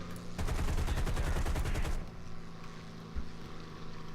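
Aircraft machine guns firing at a Wellington bomber in War Thunder, a rapid rattling burst of about a second and a half over a steady engine drone that continues after the firing stops.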